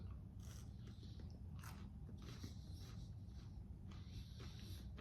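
Someone bites and chews orange-flavored chocolate close to the mic, producing soft crunchy snaps and steady mouthy chewing over a low, rumbling background.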